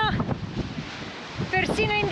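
Strong wind blowing by the sea on an autumn coast, a loud rushing roar buffeting the microphone, with bursts of talk at the start and end.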